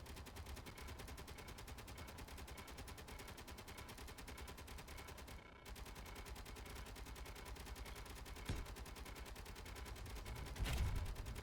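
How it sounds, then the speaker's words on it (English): Space Engineers guided missiles fire in a steady, dense rumbling barrage of gunfire-like blasts with a brief dropout midway and a sharper burst near the end. "When we fire the missile this last time, you'll notice that the missile stays higher"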